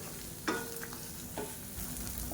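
Radish pieces being sautéed in a pan for mullangi chutney give a low steady frying hiss, broken by two sharp scraping stirs of a spatula near the start and middle.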